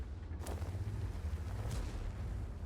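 Tank cannon fire in World of Tanks from a T110E5, with two distant, muffled booms over a steady low engine rumble and no talking.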